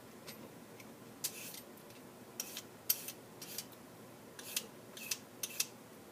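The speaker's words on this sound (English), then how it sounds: "Take my vegetable peeler and just peel it like so." A vegetable peeler scrapes down the skin of a cucumber in a kitchen, giving a series of short, crisp rasping strokes at an irregular pace, fairly close and with no talking.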